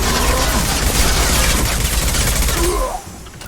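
Dense bursts of rapid gunfire fill a Mass Effect 2 firefight, loud and continuous, then cut off abruptly near the end, leaving a faint background hum.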